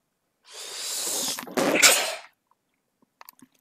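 A single loud, close sneeze lasting over a second with a sharp burst in the middle, followed by a few faint clicks and rustles.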